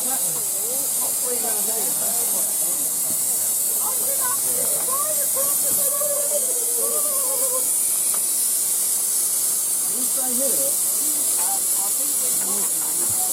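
Steady hiss of escaping steam from a miniature steam locomotive at a heritage railway steam gala, constant and fairly loud throughout, with people talking faintly in the background.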